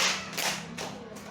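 A classroom of students claps hands together in a math clap game, several sharp, close claps in quick succession with a faint room echo.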